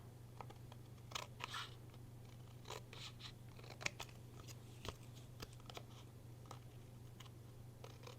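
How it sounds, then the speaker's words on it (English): Straight edge scissors trim excess paper from a handmade birthday card, giving a scattered series of short, crisp snips and rustles, fairly quiet, over a steady low hum with no talking. "now I'm going to take a pair of straight edge scissors and flip it over and trim off the"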